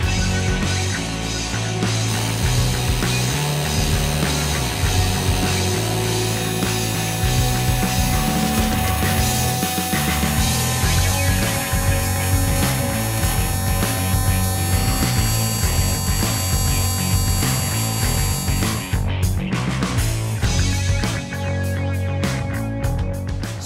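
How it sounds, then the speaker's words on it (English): Precision welding on an engine cylinder head around the combustion chamber and valve seats, a loud continuous buzzing hum with steady crackle that runs unbroken, shifting slightly near the end. "For our precision weld beads, we'll be increasing our frequency up to about 260."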